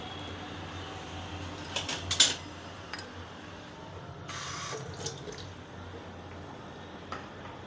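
Water running from a tap in a kitchen while matki misal curry is made, a steady close splashing flow with a few brief clinks and louder bursts, no talk.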